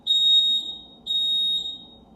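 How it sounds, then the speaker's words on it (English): A building fire alarm under test sounds two loud, piercing electronic beeps, each nearly half a second long, separated by a short gap, heard alone with no voices. "That's the fire alarm testing going on in the building."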